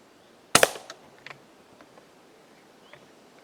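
An air rifle fires a single sharp crack at a squirrel outdoors, followed by a short metallic rattle and faint later clicks over quiet background with distant birds.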